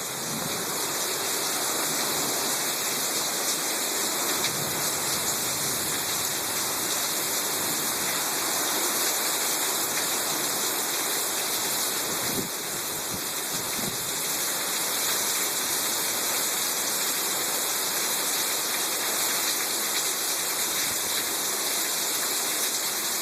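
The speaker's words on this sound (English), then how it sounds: "It's actually flooding here in the porch area." Thunderstorm rainwater pours and gushes across a flooding porch, a loud, steady, dense rush of water lasting throughout with no let-up.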